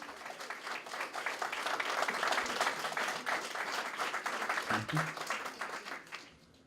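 A press conference audience applauds a sponsor, a dental clinic, with dense clapping that swells, holds, then fades out near the end, and a voice or two murmurs faintly underneath.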